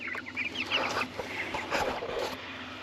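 Meat chickens cluck close by in a crowded pen, a busy overlapping run of short clucks and squawks with no voices.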